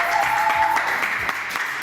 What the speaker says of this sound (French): Applaudissements.